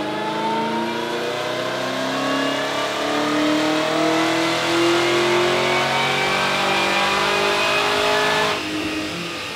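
A supercharged 2016 Camaro SS with a Magnuson TVS2300 blower revs hard on a dyno, a loud sustained engine roar with rising and falling harmonics over about nine seconds, alone with no talk.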